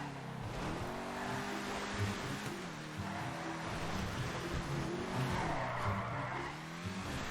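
A Grotti GT500 sports car in GTA 5 Online skids and slides at speed, its tires squealing steadily over a continuous engine drone for several seconds, loud and close throughout.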